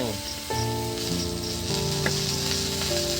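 Chowmein sizzles loudly in a hot pan as vinegar goes in, a dense, steady hiss close by with no speech. A sustained musical tone runs through the background.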